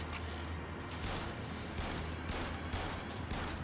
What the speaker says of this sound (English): So anyway, I just started blasting at random targets.